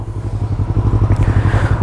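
A new six-speed Yamaha R3 motorcycle idles close by, its engine giving a steady, loud, throbbing pulse without a break for about two seconds, with no voices over it.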